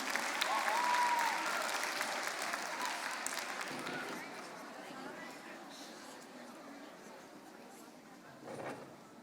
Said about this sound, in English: can we give a huge round of applause for the first speaker of the negative team?